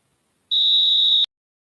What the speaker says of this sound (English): It's the whistle.